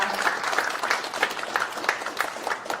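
Audience applause at the launch ceremony of a Korean political party's economic advisory team, a steady wash of many hands clapping for about three seconds with no voices over it.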